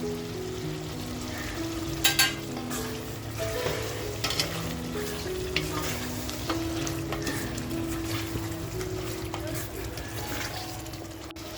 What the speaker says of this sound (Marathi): आता आपण याच्यामध्ये मटण टाकून घेऊया.